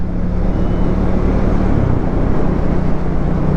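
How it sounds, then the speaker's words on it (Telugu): A steady, deep motorcycle engine rumble runs throughout, a continuous low exhaust drone with no pauses or other sounds on top. "ఇప్పుడు ఎగ్జాస్ట్ ఇది ప్రాపర్ బీట్"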